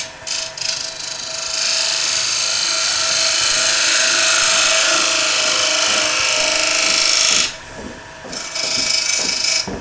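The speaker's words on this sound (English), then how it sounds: "So I'm just going to do that with a skew chisel." Skew chisel cutting wood on a lathe while turning a wooden table lamp, a loud steady hissing shear that breaks off briefly near the end, then resumes.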